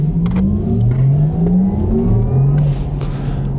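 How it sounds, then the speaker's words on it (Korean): Porsche Taycan electric car's artificial driving sound, a loud synthetic engine-like hum rising in pitch in repeated sweeps as if accelerating, steady and close throughout with no talking. "이 버튼을 누르면 e스포츠 사운드가 나옵니다."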